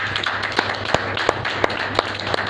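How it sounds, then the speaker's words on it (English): Applause from an audience at a talk, heard as a steady patter of many hands with a few sharper, louder claps standing out at irregular intervals over a continuous background. "If you hear so many claps for him"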